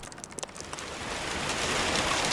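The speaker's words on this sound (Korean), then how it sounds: "또 비오네." Steady rain falling on a surface, a dense hiss that starts with scattered drops and swells into a heavier, even downpour before cutting off abruptly, with no voices.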